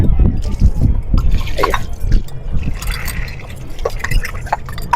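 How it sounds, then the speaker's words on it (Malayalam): A glass is rinsed with water at a drinking tap, with splashing, pouring and gurgling liquid sounds close by, while voices talk over it intermittently. "ഗ്ലാസ് ഒന്ന് കഴുകിക്കട്ടോ"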